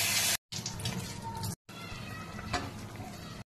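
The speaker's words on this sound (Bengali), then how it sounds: "গরম জল দিতে হবে, একদম ঠান্ডা জল চলবে না।" Hot water is poured into a pan of pabda fish curry with eggplant and potato, a loud splashing rush broken by two brief dropouts in sound.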